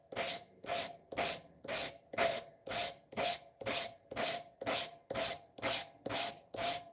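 A file is drawn across a knife edge to knock off the burr, producing thirteen evenly spaced rasping strokes about half a second apart, close and steady with no voices.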